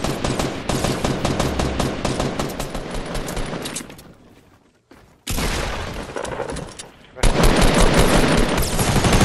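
Rapid automatic gunfire in a video game, loud and near, in long sustained bursts broken by a brief quiet gap before the firing resumes even louder.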